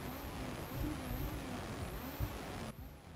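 Rally car engine in the EA Sports WRC video game, a steady droning hum with a faint high whine cycling above it, continuous and fairly loud, no voices.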